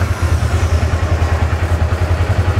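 A Polaris engine from the 2013-2016 era idling close by, a loud, steady, rhythmic low chug with a fast even pulse and no voices.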